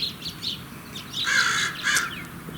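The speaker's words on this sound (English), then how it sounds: "Hear the crow in the background?" Outdoors, a crow caws several times at moderate distance, hoarse calls coming in short bursts and clusters over a low background rumble.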